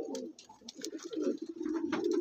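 Pigeons coo in a low, rolling murmur at a pigeon seller's loft, the throaty calls overlapping steadily at close range with small rustles and faint higher chirps above.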